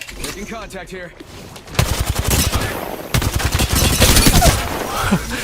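Rapid bursts of automatic gunfire from a video game firefight, loud and sustained through most of the span, with a player talking over the shots early on.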